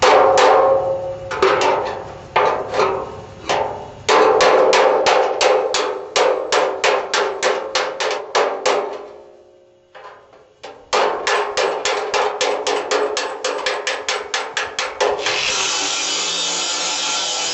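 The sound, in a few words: hammering metal with spike and dolly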